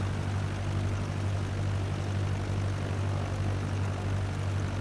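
A propeller airplane flies along the Delaware Bay coastline, its engine a steady, loud droning hum heard from inside the cabin without a break.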